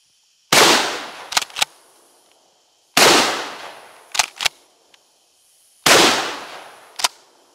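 Three loud 12 gauge shotgun blasts of Aria Devastator full-bore super alloy lead hunting slugs, fired from a rifled barrel outdoors, evenly spaced about two and a half seconds apart, each followed by sharp metallic clicks of the action cycling.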